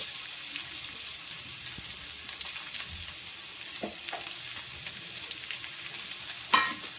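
Chopped onions, four medium, and garlic frying in a pan, a steady close sizzle with occasional spoon stirs and a sharp scrape near the end, no talking.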